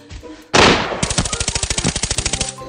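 Automatic gunfire in the shooter game Arena Breakout: a loud close burst, then a rapid rhythmic string of about twenty shots.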